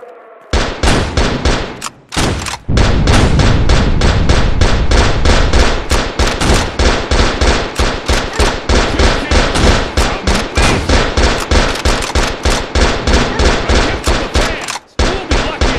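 Explosions from a missile barrage in the Android battle royale game Gun Gladiators hit in a loud, fast, relentless string of sharp blasts, with a brief lull near the start and another near the end.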